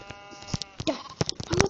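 A sheep in a video game bleats briefly a couple of times, short nasal cries standing out over faint background noise.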